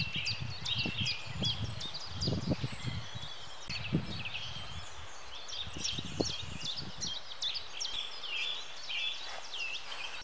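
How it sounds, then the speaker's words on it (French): Birds chirp and trill through a dawn chorus in a marsh valley, many small calls overlapping at moderate distance, with low rustling and scattered soft knocks near the microphone. "Un petit réveil au son de l'orchestre symphonique des oiseaux et de la nature."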